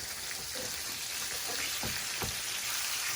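Buttermilk-battered pork chops fry in a pan with a steady close sizzle of hot oil, with a few soft pops and clicks, alone without talking.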